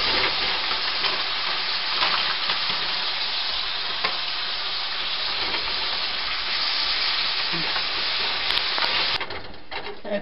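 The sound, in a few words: frying kochu lota with shrimp in a pan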